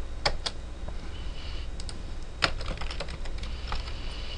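Card digits tapped out on a computer keyboard, a run of crisp key clicks in short bursts and irregular rhythm, close and fairly quiet, with no voices.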